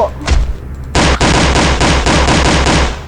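Rapid automatic gunfire in a zombie shooting video game, a loud, dense string of shots that opens with a short burst and then rattles on continuously.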